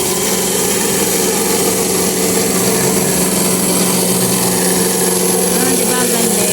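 Electric fabric cutting machine slicing through cloth at a workshop, a steady loud motor whine running throughout with no pauses, and speech mixed in over the mechanical hum.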